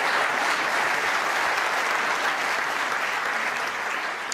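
A snooker crowd at the Crucible applauds during a World Championship semi-final, a dense, sustained round of clapping from a large indoor audience that holds steady for several seconds before easing slightly.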